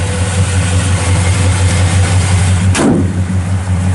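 A 1967 Chevrolet C10 custom pickup idles close by, with a steady, loud low rumble that runs unbroken throughout. A brief whoosh passes partway through.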